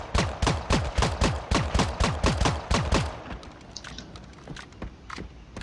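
Rapid bursts of gunfire in the video game Creative Destruction, about a dozen sharp shots in quick rhythm, then fainter scattered shots and clicks trailing off.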